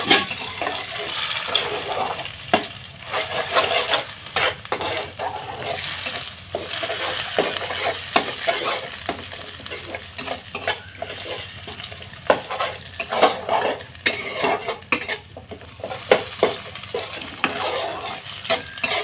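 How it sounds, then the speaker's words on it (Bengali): Eggs being scrambled and stirred in a pan into egg bhujia, a busy sizzle overlaid with rapid, irregular scraping and tapping of a spatula, close and continuous throughout. "ডিমটাকে ফাটিয়ে একটা ভুজিয়া বানিয়ে নিই"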